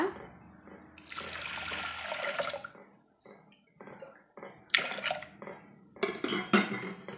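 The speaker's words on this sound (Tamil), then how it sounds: "தேவையான அளவு தண்ணி ஊற்றிக்கலாங்க" Water pours and splashes into a metal pressure cooker holding lentils for sambar, in bursts, with clinks of the vessel and pauses between pours.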